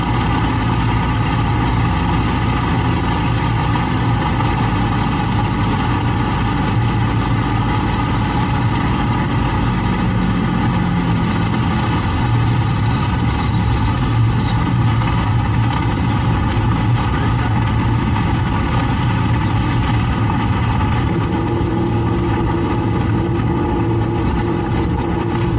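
Spitfire aircraft engine on a curved landing approach to the runway, a steady, loud, continuous drone with a constant low rumble and no pauses, heard from inside the aircraft.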